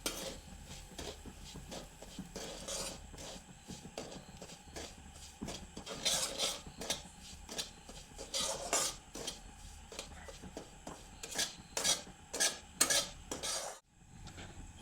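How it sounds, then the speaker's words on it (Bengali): Semolina being dry-fried in a pan, heard as repeated scraping and clinking stirs of a spoon against metal over a faint sizzle, fairly quiet and close. "দিয়ে সুজিটি কিছুক্ষণ ভেজে নিচ্ছি।"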